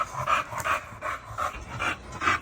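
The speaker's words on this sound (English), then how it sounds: "Let me take a look at the pups." A mother dog and her pups pant in quick, rhythmic breaths, a steady run of short huffs close by and fairly soft, with no talking.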